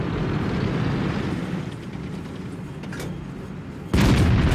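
A tank cannon fires in a tank combat video game, a sudden loud blast near the end breaking over a steady rumbling engine-and-battle background.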